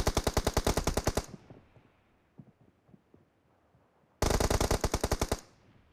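Rapid automatic gunfire from a shooting video game, a loud run of evenly spaced shots, then a pause with faint scattered clicks and thuds, then another loud burst.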